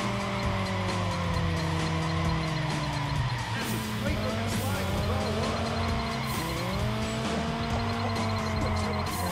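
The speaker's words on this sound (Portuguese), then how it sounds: "Sente esse drift!" A car drifts in the racing game Juiced 2, with a steady engine drone and sustained tire squeal whose pitch bends and rises through the slide, loud and continuous throughout.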